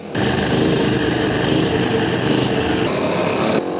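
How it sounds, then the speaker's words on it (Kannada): A four-stroke motorcycle engine runs steadily at a constant, fairly loud idle, a continuous buzzing drone with no talk. "ಅದಕ್ಕೆ ಇದು 4 ಸ್ಟ್ರೋಕ್ ಅಲ್ಲಿ ಸ್ವಲ್ಪ ಸೌಂಡ್ ಕಡಿಮೆ"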